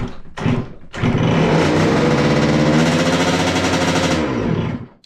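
A motorcycle hung up near a ceiling coughs, then fires into a loud, steady, buzzing engine run with rapid pulsing, held for several seconds before cutting off abruptly.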